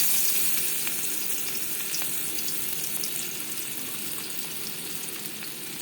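Potatoes frying in hot oil in a wok give off a steady, bright sizzle with faint crackles and occasional stirring clicks, continuous and close, with no voices.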